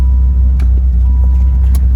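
A Dodge Viper's V10 engine idles in neutral, with a six-speed manual gearbox, a loud, deep, steady rumble heard close up for a couple of seconds, with no one speaking.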